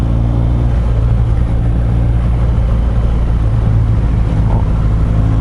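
A motorcycle engine drones loudly and continuously while riding, a steady close roar mixed with rushing wind and no speech.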